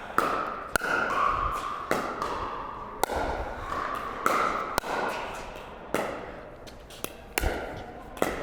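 Pickleball paddles striking the ball in a pro warm-up of drops and drives, sharp hollow pops arriving about once a second in a steady back-and-forth rally, crisp and close over faint court ambience.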